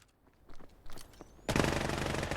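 Shots ring out in the shooter Vail, a few scattered reports followed by a loud, dense burst of rapid automatic fire that carries to the end.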